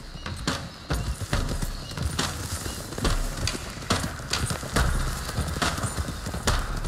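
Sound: horses galloping, riding in Red Dead Redemption 2 video game

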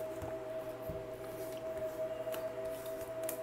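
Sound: shuffling tarot cards

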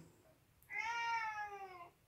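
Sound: pet cat meowing

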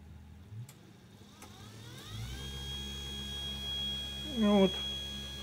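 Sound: 24 V electric motor running with coupled induction encoder

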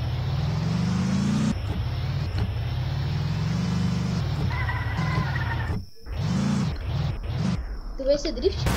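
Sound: car drifting in the Roblox game Mad City

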